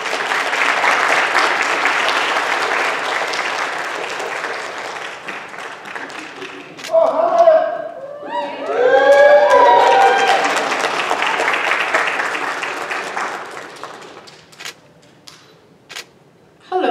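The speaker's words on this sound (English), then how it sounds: "Another round of applause," An indoor audience at the Bakersfield College Delano Campus pre-commencement ceremony for the class of 2022 claps in sustained, dense applause with a few voices mixed in, then fades to a handful of scattered claps.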